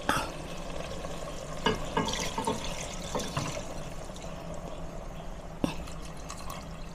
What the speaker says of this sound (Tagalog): isunod na po natin yung ating kakanggata. Yan, yung unang piga